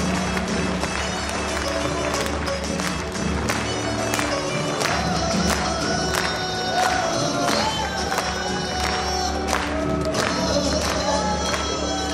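Large crowd at a Hindi political campaign event applauding and cheering to welcome the campaign anthem, a loud, dense, continuous wash of clapping over music throughout, with no pauses.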